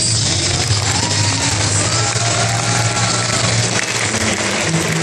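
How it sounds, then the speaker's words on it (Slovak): A convention audience applauding at a cosplay show, a loud, continuous wash of clapping and cheering crowd noise lasting throughout without pause. "Ešte raz veľký potlesk."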